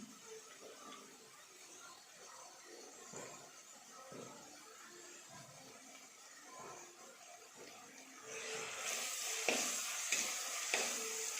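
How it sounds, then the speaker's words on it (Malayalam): Soft, steady sizzling of crushed onions frying in a pot for Kottayam-style fish curry, with occasional scraping stirs; the sizzle grows louder and brighter toward the end as the heat is raised. "അതുകൊണ്ട് ഇടയ്ക്കൊന്ന് ഇളക്കി കൊടുക്കണം."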